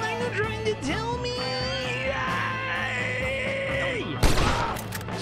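Gunfire in the Western video game Red Dead Redemption, a burst of shots breaking out at the end amid game noise, yelling and a sustained tonal sound, fairly loud and close.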